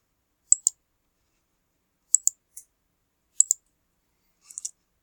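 Crisp clicks from typing on a computer keyboard in Clicker 7 software, arriving in four sparse bursts of two or three sharp taps separated by silence in a quiet room.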